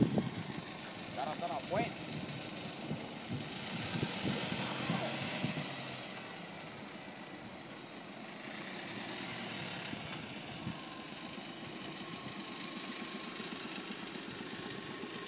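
A car engine idles with a low, steady rumble at Hangman's Hill in Epping Forest, London. Voices talk over it throughout.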